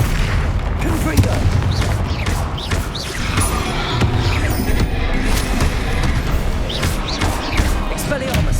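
Hogwarts Legacy spell combat with Confringo blasting explosions among other spells, a dense stretch of repeated booms and impacts over a constant rumbling battle bed, with voices calling out throughout.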